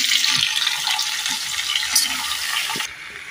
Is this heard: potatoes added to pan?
yes